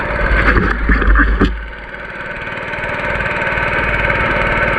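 A boat engine driven out toward a fishing spot, a loud continuous motor drone with a rougher, busier burst at the start before settling into a steady, even hum close by.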